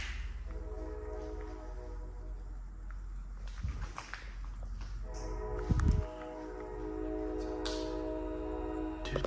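A train passes beside an abandoned building, its steady rumble and droning tones filling the scene throughout, with a few footstep-like thumps and shuffles standing out over the continuous noise.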